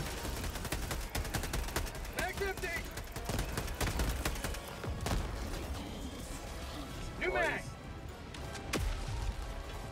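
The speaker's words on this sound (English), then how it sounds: "I love the pew pew lasers coming out of this thing right now" Laser weapon fire in Helldivers 2 during a fight against Automatons, a dense stream of sharp rapid shots with booms mixed in, and people talking over the fighting.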